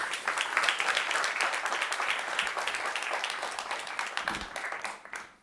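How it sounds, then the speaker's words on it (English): Sustained applause from a conference audience after a presentation, many hands clapping densely and evenly before fading out at the end. "I hope you heard also the applause you got."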